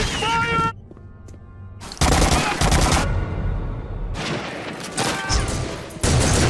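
Rapid machine gun fire in a video game, bursts of rattling shots broken by brief lulls, loud and close, with some talk beneath the gunfire.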